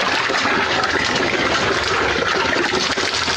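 Water is poured out in a loud, continuous gush that splashes steadily and stays close and strong for the whole stretch. No voices can be heard over it.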